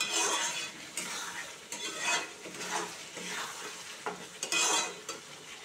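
Boiled cabbage goes into a pan of oil-released frying spices and is stirred, with a soft sizzle under repeated scraping and clinking of a utensil against the pan in uneven strokes, close and moderately loud.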